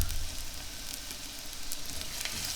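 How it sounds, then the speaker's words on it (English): Shallot sizzles gently in a frying pan, a steady soft crackling hiss with no one talking. "Start with the shallot. There's that gentle sizzle you want to hear."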